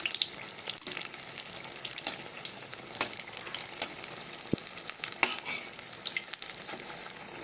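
Beguni, battered eggplant fritters, frying in hot oil: a continuous crackling sizzle with scattered pops and occasional clinks, steady and close, no voices.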